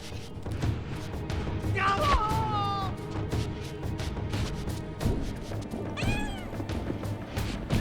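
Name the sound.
cat meowing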